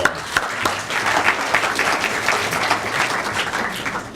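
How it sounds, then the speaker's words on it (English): An audience applauds poets at a reading, dense steady clapping throughout with a few sharper claps standing out near the start. "Let's give them another round of applause."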